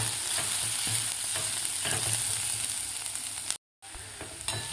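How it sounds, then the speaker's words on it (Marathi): Onion sautéing in a pan with dry coconut and garlic, a steady close sizzle broken by scraping stirs and one brief silent gap, with no voices. "आता एक खोबरं आणि लसूण घातल्यानंतर आपल्याला 1 मिनिटभर हे परतून घ्यायचा आहे कांदा."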